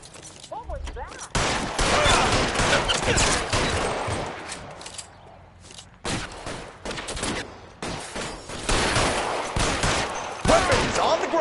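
Gunfire in the video game L.A. Noire: loud, sustained volleys of rapid shots and bursts fill the scene, with a brief lull midway before the barrage resumes.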